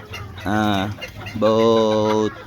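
A long-legged bulik hen gives two drawn-out, nasal calls in quick succession, the second longer, close by against a quiet background.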